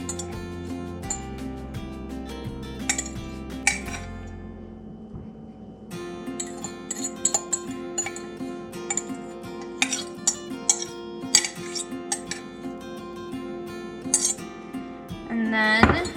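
Brown rice being spooned into several bowls, with scattered light clinks and taps of utensil against dishware, close and fairly quiet.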